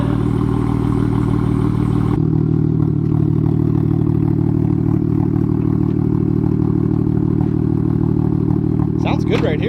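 A BMW 135i/335i with the N54 engine idles through an aftermarket exhaust, a steady low rumble, close and fairly loud, with a short burst of voice near the end.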